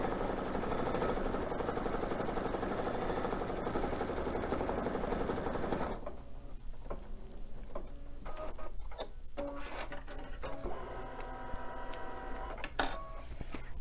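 A household sewing machine runs steadily while double stitching a fabric star for a quilted tree project, its whirring motor and rapid needle clatter continuing throughout, close and moderately loud, with no talk.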